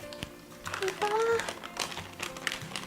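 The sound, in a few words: unwrapping parchment paper from a peanut butter cheesecake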